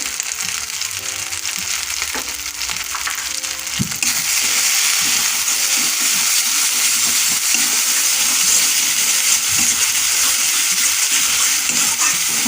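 Spices fry with water in a pan for a spinach and egg dish, giving a loud, continuous sizzle. A utensil scrapes and rattles at first, then the hiss grows denser and steadier.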